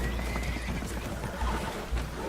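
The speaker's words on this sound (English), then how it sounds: "Horses are spooked" Spooked horses neigh and whinny in a Red Dead Redemption 2 scene aboard a damaged boat taking on water, with hoof clatter and a constant low rumble beneath a dense, noisy mix.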